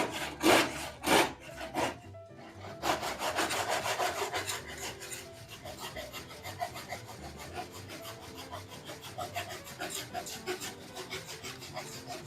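Pallet wood being cut with a hand saw, opening with a couple of loud rasping strokes, then a long run of steady rhythmic back-and-forth sawing, close up and fairly quiet, with no talking.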